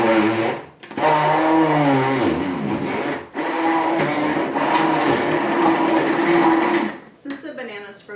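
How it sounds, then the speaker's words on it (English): Immersion blender mixing blueberries, frozen banana and milk in a container, a loud whirring motor running in long stretches with brief pauses and shifting pitch as it churns through the frozen fruit. "So I'll mix these together. I use an immersion blender."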